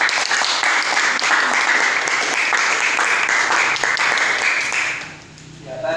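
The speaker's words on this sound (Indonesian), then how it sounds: "Tepuk tangan untuk kelompok 2." Classroom applause as students clap for a group in a teacher-training lesson, a dense steady patter lasting about five seconds before fading out near the end.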